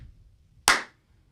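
A single sharp clap, close and crisp, sounds once on a live morning radio show, then decays quickly into near silence.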